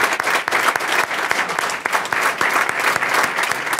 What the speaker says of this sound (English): You deserve a round of applause for trusting me with your son.